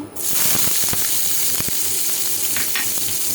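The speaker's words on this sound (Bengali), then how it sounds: "এখানে এখন সামান্য পরিমাণে একটু তেল দিয়ে নিচ্ছি। তেলটা একটু গরম হয়ে আসলে" Oil heats and sizzles in a frying pan for a pumpkin fry, a loud steady hiss with small crackles and stirring clicks close by, and no talk.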